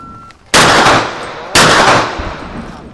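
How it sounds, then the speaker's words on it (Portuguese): Two loud gunshots about a second apart at a shooting range, each sharp crack trailing off into a long echoing decay, close to the listener. "A Kaká acertou todos os tiros."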